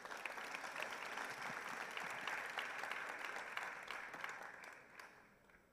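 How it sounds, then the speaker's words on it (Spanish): An audience claps steadily in a hall to welcome a speaker, the dense applause holding for several seconds before thinning out and fading near the end. "Recibamos a Thiago entonces con un aplauso."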